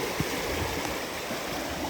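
Water in a river near Indian Lake's headwaters flows with a steady, broad rushing wash, close and continuous, with small splashes breaking through. Nobody talks.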